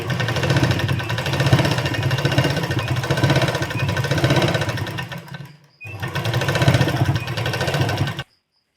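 A sewing machine runs steadily, stitching fabric for a garment neckline design; the dense mechanical whir continues alone for about five seconds, stops briefly, then resumes for a few more seconds before cutting off.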